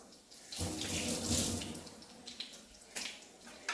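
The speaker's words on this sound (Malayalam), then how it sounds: "കൈ ഒന്ന് കഴുകിയിട്ട് ഓടിക്കും" Hands are washed under a running kitchen tap during coconut curry preparation; a steady splashing flow swells and eases with brief breaks as the hands move, close and alone with no talk.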